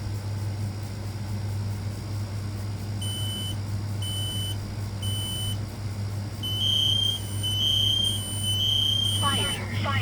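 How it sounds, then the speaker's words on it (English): A Kidde i1-2010S smoke alarm being tested sounds a run of sharp, high, evenly spaced beeps over a steady low hum, ending in a longer shrill tone as a spoken alert begins. "This next alarm we're going to test is the Kidde"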